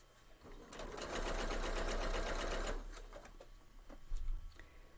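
A sewing machine stitches a quilted Christmas tree skirt in one fast, steady burst of close, rapid whirring that stops after a couple of seconds, followed by brief handling noises.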